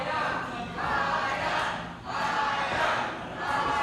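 A crowd at a women's wrestling championship match cheers and chants in loud swelling waves, dipping briefly before rising again, with voices mixed into the din.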